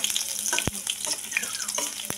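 Onions sauté in a hot pan, giving a close, steady sizzle broken by a few sharp clacks of stirring.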